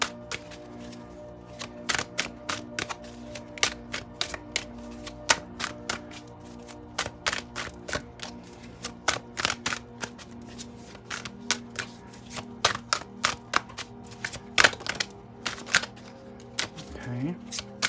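A deck of tarot cards is shuffled over and over, with crisp riffling snaps and flicks above a low steady hum.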